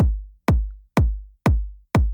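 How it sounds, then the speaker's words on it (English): Five booming electronic kicks in an even pulse, a bright white-noise ramp whooshing into each hit just before it lands, in Ableton. "that ramp is happening a lot sooner, and it's creating more of a whip into the kick"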